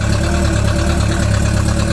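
Lawn tractor engine idling loud and steady up close, with a continuous low chugging rumble throughout.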